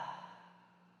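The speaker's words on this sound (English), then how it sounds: "Take a deep breath in through the nose. Audible exhale through the mouth." Someone exhales audibly through the mouth during a relaxation breathing exercise in a yoga session. It is a single soft, breathy sigh that fades over about a second, close and alone.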